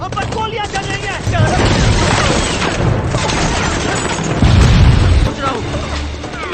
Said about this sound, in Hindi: हम पर गोलियां चल रही हैं।